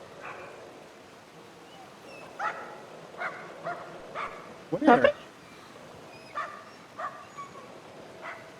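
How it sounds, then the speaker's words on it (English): A dog barking in the video game Somerville, a few short, distant barks and yips mixed into the game ambience, under people talking. "Do I hear my dog?"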